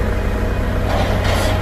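A vehicle engine hums steadily and loudly while pallets are loaded during a humanitarian aid run, a continuous low drone with broad noise and no breaks.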